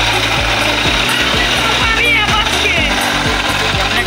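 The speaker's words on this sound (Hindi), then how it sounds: "गाड़ी स्टार्ट कर चुके हैं हम, और ये गाड़ी स्टार्ट है, ये आप आवाज सुन सकते हो।" A Hero Splendor motorcycle engine runs after an engine repair, loud and close, with a regular clattering, knocking rhythm repeating steadily throughout.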